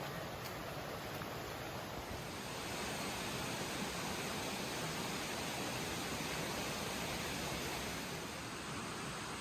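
Chambers Creek rushes past a backcountry campsite in the Smokies, giving a constant, dense, fairly close roar of flowing water that holds steady throughout with no speech.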